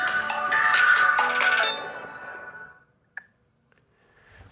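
Phone ringtone going off during a physics lesson, a bright chiming melody ringing loudly for about two seconds, then fading out, followed by a faint click and near silence.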